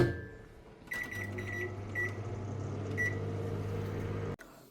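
A microwave oven hums steadily with a low drone. Several short beeps sound near the start and again partway through, and the run ends with an abrupt click as the hum cuts off.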